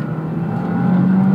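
A 2022 Subaru WRX Premium engine revs up under acceleration while driving, a loud, close, steady drone that climbs slightly in pitch over a short stretch, with no talk.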